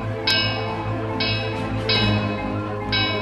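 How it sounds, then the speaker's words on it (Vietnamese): A bell is pulled and rung in an animated cartoon, four bright metallic strikes spaced about a second apart over a sustained musical background. "có người đang kéo chuông kêu oan"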